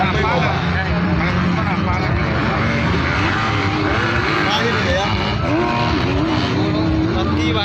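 250cc motocross motorcycles racing at a hill circuit in a South Sulawesi regional championship, engines droning loud and continuous with shifting revs, a commentator talking over the noise throughout.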